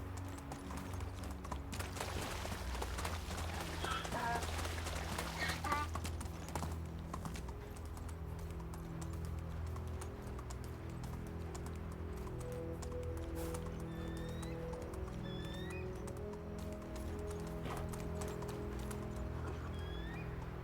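Horse hooves clip-clopping at a quick gait in the medieval video game Medieval Dynasty, a steady rhythmic patter over a low ambient drone, with a few faint bird chirps later on.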